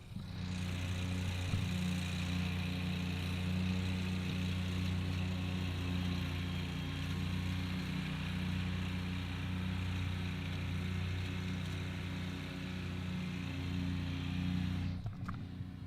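A robot lawn mower runs steadily and close by, a continuous motor hum with a whirring blade drone that holds level throughout, with a brief clunk near the end as it stops or shifts.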